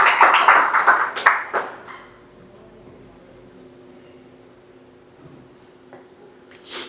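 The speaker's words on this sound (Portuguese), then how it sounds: "Você pode aplaudir o Senhor de novo?" Church congregation clapping together for a couple of seconds, a dense burst of hand claps that fades out into a quiet room with a low hum.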